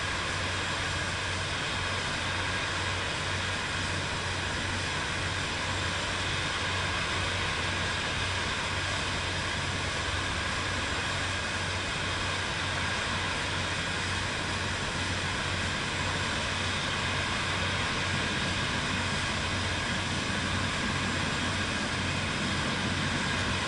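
Steady broadband engine drone of another aircraft flying nearby in Microsoft Flight Simulator 2024, a constant loud hum with a low tonal rumble, unbroken and with no talk.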